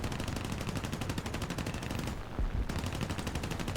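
Fighter plane machine guns in a flight combat video game fire a continuous rapid rattle of shots, cutting out briefly for a moment before resuming at the same loud, steady rate.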